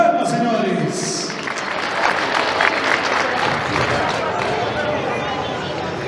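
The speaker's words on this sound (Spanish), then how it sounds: "Fuerte voto de aplausos para el señor Ciro Ramón Guerra. Fuerte las palmas, señores." Guests at a wedding clap loudly for the godfather, Ciro Ramón Guerra, a sustained crowd applause with some chatter and a voice over it at the start.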